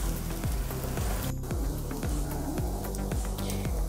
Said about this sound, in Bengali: ডিমগুলো যেন একদম ছোট ছোট হয়ে যায় এবং ভালো করে ভাজা হয়